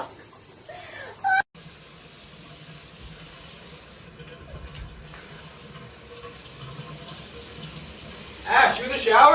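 Shower water runs steadily in a bathroom at moderate level, with a brief knock or clatter early on and a louder swell of spray or splashing near the end.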